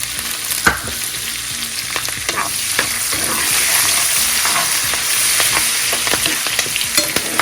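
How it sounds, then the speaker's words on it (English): Cumin seeds, whole and green chilies and curry leaves frying in butter for kadhi, a close, bright sizzle with crackling pops and the scrape of stirring throughout, no voices. "Fry for a few seconds."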